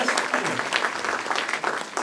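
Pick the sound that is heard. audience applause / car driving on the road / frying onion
audience applause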